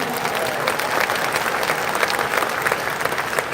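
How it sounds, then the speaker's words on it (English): An audience at a Rotary convention closing ceremony in Taipei applauds continuously, a dense, even roar of many hands clapping with faint crowd murmur. "Applause."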